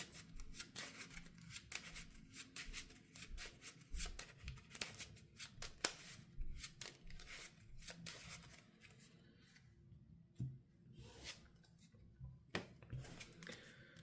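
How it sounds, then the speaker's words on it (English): Cards from the Arkham Horror card game are shuffled back into a deck at a tabletop session, with soft, repeated riffling and rustling of card stock up close, some crisp snaps and scattered faint handling noises, and no talk. "this card is shuffled back into our deck"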